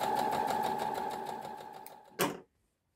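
A sewing machine stitches fabric at a normal stitch length, running steadily with a fast regular needle rhythm, close and fairly loud, then a sharp clack as it stops.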